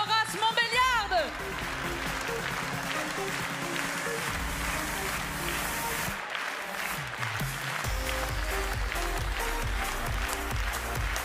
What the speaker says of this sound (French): on peut applaudir cette magnifique section de vieilles vaches